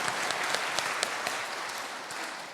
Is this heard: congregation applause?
yes